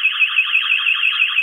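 A loud, piercing shop burglar alarm shrills continuously with a fast warbling pulse, close and unbroken.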